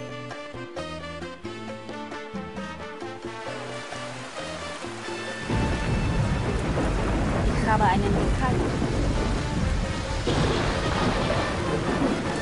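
A thunderstorm breaks out in the city-building game Tropico, as a broad roar of rain and rumbling thunder swells in after a stretch of game music and holds loud and steady to the end, with someone talking over it.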